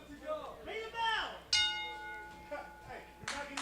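A wrestling ring bell rings out sharply and nearby, its clear tones ringing on and fading, with a second strike near the end, all over a noisy arena crowd and commentary.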